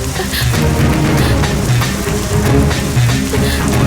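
Steady rain falls throughout, a dense, continuous patter of drops on surfaces with no pauses and no voices.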